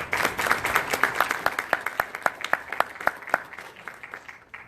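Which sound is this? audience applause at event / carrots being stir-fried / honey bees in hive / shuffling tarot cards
audience applause at event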